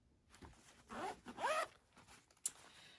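Zipper on the outside of a fabric project bag being pulled open and closed in a few quick, close rasping strokes, with a short sharp click near the end.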